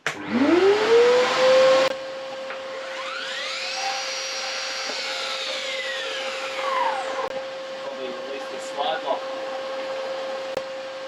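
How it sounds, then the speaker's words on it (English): A workshop vacuum cleaner starts up and runs steadily beside a Bosch 18V Biturbo cordless mitre saw, which spins up with a rising whine, cuts through timber and winds down, all loud and close with no talk. "And this time I'll turn the vacuum cleaner on."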